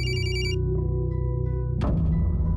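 A telephone ringing on an outgoing call, a looping electronic ring tone that plays clearly for under two seconds before being cut by a sharp broadband burst and noisy line hiss.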